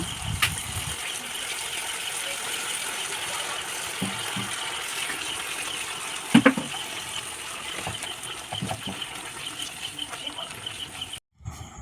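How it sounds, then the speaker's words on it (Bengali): Water is poured into a pan of ridge gourd curry to make gravy, a steady soft gushing with a few small clinks, then a brief cutoff near the end. "এবার এর মধ্যে দিয়ে দিচ্ছি অল্প পরিমাণ জল গ্রেভির জন্য"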